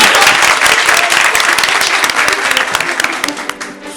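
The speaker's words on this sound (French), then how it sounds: "je vous demande d'applaudir Fadjiba Mara en L2 Sociologie" A university debate audience in Guinea applauds a student debater being introduced, a dense, loud wash of many hands clapping that holds steady and begins to thin toward the end.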